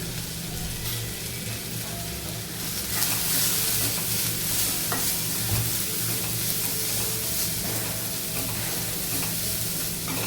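Kitchen king masala and turmeric are stirred and sautéed in a pan for garlic fenugreek curry, making a loud, continuous close-up sizzle with occasional scraping of the spoon.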